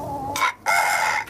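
A rooster wearing an anti-crowing collar gives one crow, muffled and choked but loud and close, broken by a short gap, with no talk.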